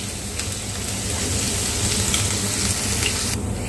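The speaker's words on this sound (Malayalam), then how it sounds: "ഇഞ്ചിയും വെളുത്തുള്ളിയും ഫ്രൈ ആയി വന്നിട്ടുണ്ട്." Ginger and garlic frying in a pan, a steady close crackling sizzle with no break.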